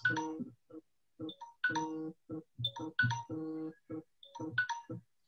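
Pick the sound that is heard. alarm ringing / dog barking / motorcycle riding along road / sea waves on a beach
alarm ringing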